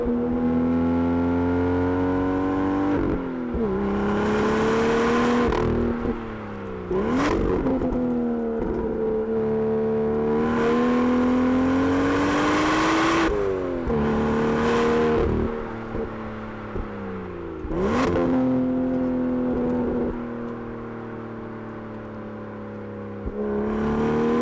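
A BMW M2's N55 inline six-cylinder engine revs repeatedly and loudly up toward 7,000 RPM, each rising howl dropping back with sharp crackles and pops between pulls, heard close and alone with no voices.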